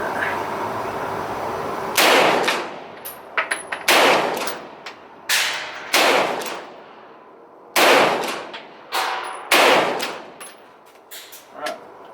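Sharp, loud gunshots from a Stribog SP9A1 pistol-caliber carbine ring out one at a time with irregular gaps, about ten reports, each followed by a brief echoing decay outdoors.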